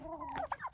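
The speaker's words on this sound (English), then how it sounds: "So lots of turkeys, excited for them." Bronze turkeys gobble in a short burst of warbling calls, close and fairly loud, with a couple of sharp cackling notes near the end.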